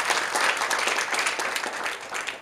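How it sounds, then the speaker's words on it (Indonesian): A church congregation applauds during a sermon, a dense burst of many hands clapping at once, fairly close and sustained for a couple of seconds. "Tepuk tangan yang bangkit."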